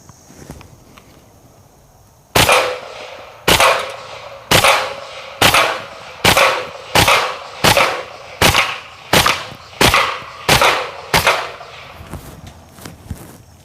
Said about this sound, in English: filled the gun up with tracer ammunition, and I'm hoping that as we shoot the keg, maybe we'll get to see some of those ricochets